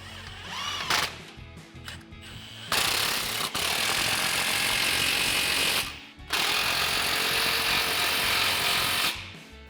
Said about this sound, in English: Take a 15mm socket and tighten down both of these clamps.